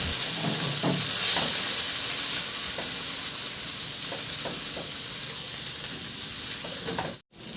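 The white part of onion leeks sautéing in a hot pan gives a loud, steady sizzle and hiss, broken by a few soft stirring scrapes, before cutting out briefly near the end.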